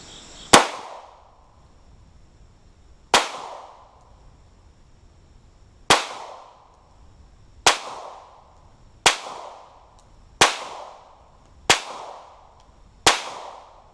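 Eight sharp pistol shots from a Glock 43 at a range target 7.5 yards away, spaced unevenly about one to two seconds apart, each a loud close crack with a short decaying tail, no voices between.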